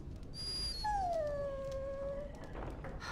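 A dog in the video game Dragon Age: Origins whimpers, giving a long, high, drawn-out whine that slowly falls in pitch, heard clearly on its own over a quiet background.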